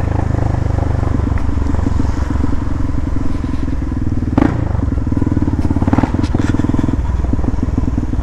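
A Yamaha Lander motorcycle with a Bell Parts aftermarket exhaust idles and revs loudly nearby, its deep, throaty exhaust crackling and popping with a raw, uneven burble.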